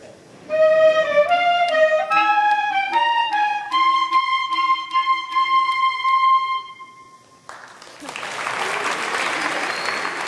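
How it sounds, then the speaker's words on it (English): School clarinet section playing a melody at a parents' concert: a sequence of clear reedy notes, each held briefly, ending on a long tone. Loud audience applause follows after a brief gap. "Now we have the clarinets."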